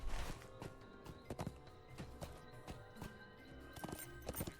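Horse hooves clip-clop at a steady walking rhythm in the Lord of the Rings Online game, mid-loud and close, with several sharp strikes and a brief whinny-like tone over a soft ambient game background.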